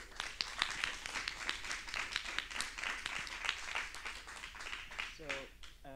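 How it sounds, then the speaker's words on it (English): Clapping from the audience at the FIBER 2021 talks session, a sustained round of many hands with sharp individual claps standing out. Near the end a voice begins speaking over it as the clapping fades. "Give him an applause also."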